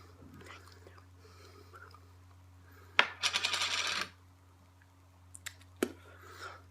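Copenhagen fine-cut snuff packed in its fiberboard can: a sudden rapid burst of close, crisp tapping lasting about a second, followed by a few scattered clicks and taps over a low, steady room hum.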